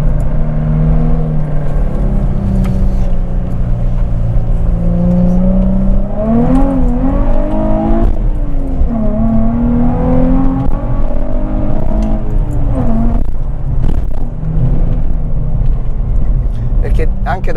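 Nissan 350Z engine heard from inside the car, a loud steady drone with rising and falling pitch sweeps as it accelerates, while people talk over it throughout.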